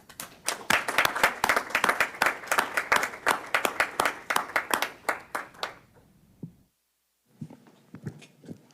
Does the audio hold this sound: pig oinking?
no